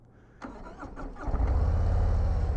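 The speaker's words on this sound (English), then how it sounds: "The exhaust note." A 2022 Harley-Davidson Street Glide ST motorcycle starts with a brief cranking stutter, then catches and settles into a deep, loud, throbbing V-twin exhaust idle, close by.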